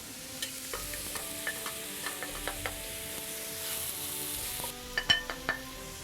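Root vegetables sizzle steadily in a soup pot on a slow fire while a spoon stirs them, scraping and knocking against the pot in irregular bursts, with a few louder clanks near the end.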